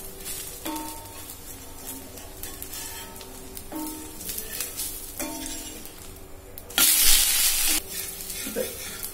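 Raw rice (pachari) dosa sizzling on a hot pan while it is scraped and flipped, with repeated spatula scrapes and a loud burst of frying sizzle near the end.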